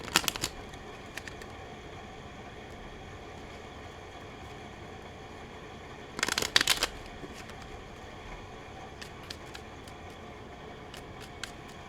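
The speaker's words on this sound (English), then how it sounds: "Let's get some oracle cards from our fairy friends" Quiet card handling as oracle cards are shuffled: a brief ruffling burst in the middle and a few soft flicks and taps at the edges, over a faint steady background hum.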